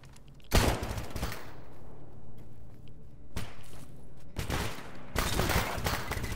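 Gunfire in the video game S.T.A.L.K.E.R. GAMMA: several loud bursts of rapid shots, with a short burst, a pause, then two more sustained volleys near the end, with no talking.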